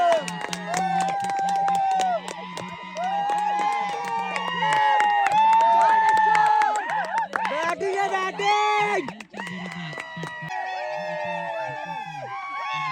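Crowd celebrating at a cricket final, a steady roar of cheering and excited voices that holds strong throughout, with a loud voice talking over it and a brief dip near the end.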